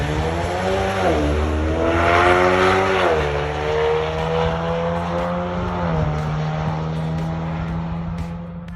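A Ford Lightning electric pickup and a Ford EcoBoost Mustang drag racing, with a loud, steady engine drone that rises in pitch in stepped gear changes, sustained and close with no talking.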